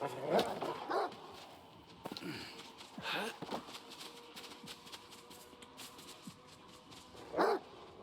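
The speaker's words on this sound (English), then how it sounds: "Definitely one of the downsides of the dogs in this game is that they understand firearms" Dogs in the video game S.T.A.L.K.E.R. 2, with several short barks and yelps spaced across the stretch, some louder bursts near the start and end, plus sniffing and whimpering amid faint background game sounds.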